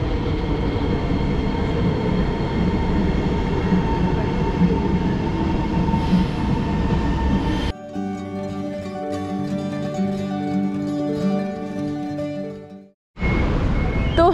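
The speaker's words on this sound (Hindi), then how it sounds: "और मेट्रो भी आ गई है" A Singapore metro train arrives and rumbles steadily, then its tone shifts into a whining electric hum as it runs along, ending with a brief drop to near silence.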